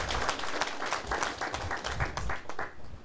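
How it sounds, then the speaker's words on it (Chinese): A crowd at a lecture hall gathering claps in applause, a dense patter of hand claps rising and dipping in waves across the whole stretch, fairly close and continuous with no talking over it. "你们拍手呀"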